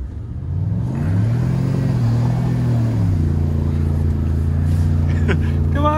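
A GMC truck engine rumbles and rises in pitch as it pulls away, a near, steady low drone with a revving climb early on, then settling, with a brief higher squeal near the end.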